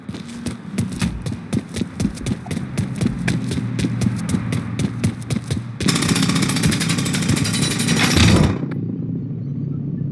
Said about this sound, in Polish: A ten tłuce asfalt młotem.